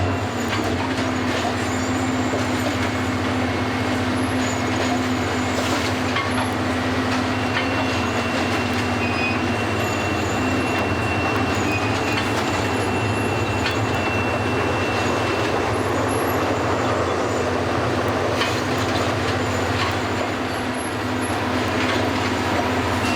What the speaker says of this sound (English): The remainder of the track renewal train will then be running on the new rails.